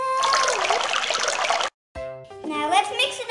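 Warm water pours into a glass, a steady trickle and splash lasting about a second and a half, then after a brief gap a voice speaks over softer sounds.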